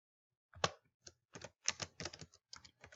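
Keys clack on a computer keyboard in short irregular bursts, several quick taps close by and quiet, with silent gaps between strokes.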